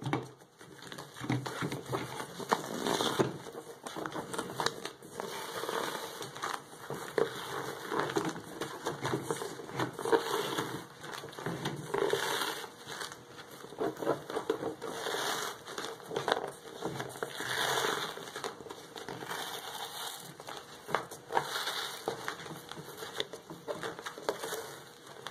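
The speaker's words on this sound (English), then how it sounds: "So go ahead and we'll just peel this back now." Glued fabric being peeled slowly off a Subaru WRX door card, a steady crackling, tearing rustle with irregular louder bursts running close and continuous throughout, no talking.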